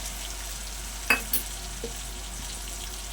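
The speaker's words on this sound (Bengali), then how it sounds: "জল দিয়ে যে মশলাটা গুলে নিয়েছি, এবার এই তেলের মধ্যে দিয়ে দেব" Chili-powder spice paste mixed with water hitting hot oil for a stinging catfish curry, a sudden sharp sizzle burst followed by a couple of smaller spits, then a quiet steady hiss, with no talking.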